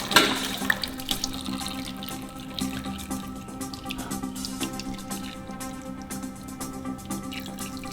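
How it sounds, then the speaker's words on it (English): Oil dripping and draining from the filter housing of a Ferrari V12 engine damaged by twin turbos, heard as a close, steady patter of drops with some brighter splashes and no talking. "we're gonna let this drip a bit, drain some of the oil out of here"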